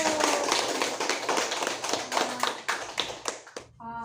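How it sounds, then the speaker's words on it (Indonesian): Schoolchildren in an Indonesian classroom clap their hands together, a dense burst of many quick overlapping claps that carries on for about three and a half seconds and then breaks off, with a brief voice right at the end. "Ayo kita tepuk tangan semuanya dulu"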